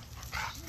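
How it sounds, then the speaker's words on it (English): A big old dog gives a single short bark, faint and brief against a quiet background. "because Max is a scary looking big old dog"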